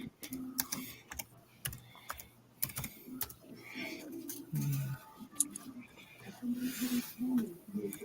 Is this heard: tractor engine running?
no